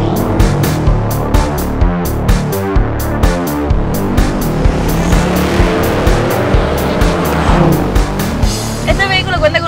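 A 2008 Dodge Challenger with a twin-turbo 6.1-litre Hemi V8 making about 600 horsepower through a five-speed automatic, accelerating hard on a street. The engine roars loudly with squealing tires and repeated sharp bursts, and voices sound over it.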